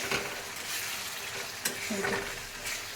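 Potatoes cooking in a spiced curry with Kashmiri chilli powder, a continuous hissing fry beneath a few spoon scrapes and one sharp tap on the pan, close and fairly quiet, with no talking.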